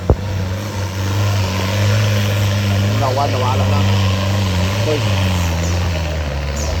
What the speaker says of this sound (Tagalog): Ada kaya ng drone.